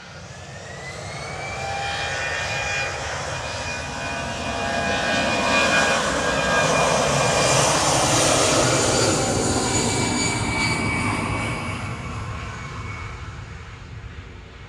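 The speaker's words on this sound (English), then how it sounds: "EasyJet to Milan, we just heard departing." easyJet jet airliner departing Manchester Airport on a flight to Milan, a loud sustained jet engine roar that swells to a peak mid-way and then slowly fades as the plane climbs away, heard at a distance with no talking.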